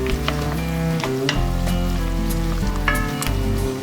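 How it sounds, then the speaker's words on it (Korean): Minced garlic and onion sizzling loudly in a pan, close and steady, with crackling pops scattered through a continuous frying hiss and no voices. "다진 마늘은 반 수저 정도만 넣고 빠르게 볶아주세요"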